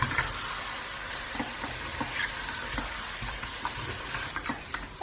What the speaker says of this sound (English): I'm going to mix that yogurt through